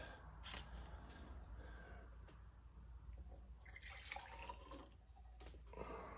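Soft, steady running water with intermittent splashing and swishing, like something being rinsed under a tap, faint and close.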